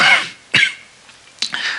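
A man coughs and clears his throat during a church sermon, with three sharp, close bursts separated by short silences, the last one trailing into a rougher throat-clearing rasp.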